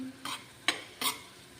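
Homemade masala paste frying with onions in a pan, with three quick spoon-stirring scrapes over a faint background sizzle, close and quiet, no speech.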